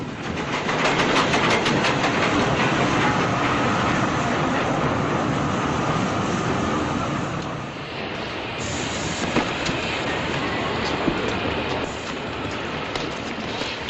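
Passenger train running on rails in a 1940s setting, a steady loud rumble and rattle of carriages with rhythmic clatter throughout, dipping briefly mid-way then continuing.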